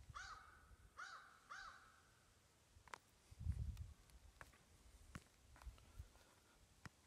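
Three harsh caws from a crow ring out in quick succession at the start, fairly close, followed by scattered clicks, knocks and a low thump.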